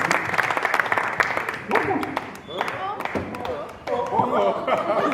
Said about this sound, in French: Sous vos applaudissements, je vous prie.